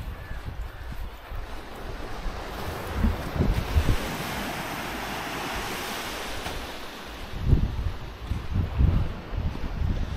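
Sea waves breaking on Nivati beach in Konkan at sunset, a steady surf wash with periodic louder swells and wind buffeting the microphone, no voices.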